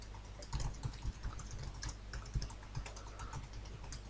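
Quiet typing on a computer keyboard, a quick irregular patter of key clicks close by and without voices.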